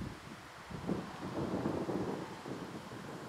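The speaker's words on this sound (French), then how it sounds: "Il y a quelques coups de vent là." Gusts of wind buffet the microphone in low, rumbling surges over a flowering natural meadow in France, rising and falling over a few seconds with no voices.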